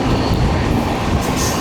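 A train rolls through Irugur railway station, a dense continuous rumble of wagons and wheel clatter, loud and close, without voices.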